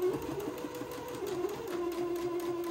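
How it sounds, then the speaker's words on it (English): A sewing machine runs a straight stitch along the shoulder seams of a little white dress with white thread, a steady mechanical whir that holds evenly for a few seconds, close and alone. "I'm set for a straight stitch, and I'm going to sew my shoulder seams."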